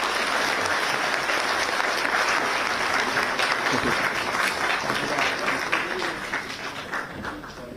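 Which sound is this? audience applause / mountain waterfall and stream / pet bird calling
audience applause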